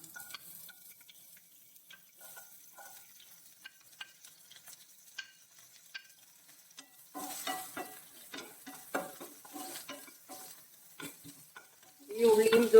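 Shallots, ginger, garlic and tomato sautéed in hot oil, heard as faint, sparse ticks and light stirring at first, swelling into denser sizzle and spatula scrapes toward the end.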